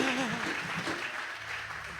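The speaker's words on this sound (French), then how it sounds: "Est-ce qu'on peut acclamer pour l'Église?" A church congregation at a Christmas service with children applauds and cheers, a continuous dense wash of clapping and voices with a singing or speaking voice briefly audible over it.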